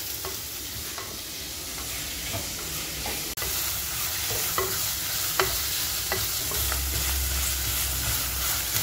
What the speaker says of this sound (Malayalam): സബോള ഇട്ട് കൊടുക്കാം. അതിൻ്റെ ഒപ്പം വേപ്പിലയും പച്ചമുളകും ഇട്ട് കൊടുക്കാം. നമുക്കിതൊന്ന് നന്നായി മിക്സ് ചെയ്തെടുക്കാം.